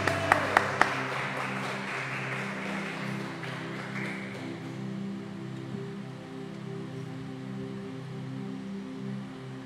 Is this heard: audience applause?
yes